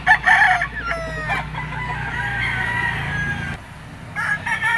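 A lemon-bloodline bull stag gamecock crows loud and close at a rooster market in Lipa, Batangas. Its drawn-out call is preceded by short clucks, with other fowl calling faintly in the background.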